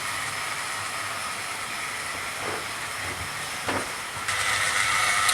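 Model locomotives Flying Scotsman and Spitfire run double-headed on a layout, giving a steady hiss-like running noise with faint rail clicks and a couple of brief louder passes, rising slightly toward the end, with no talking.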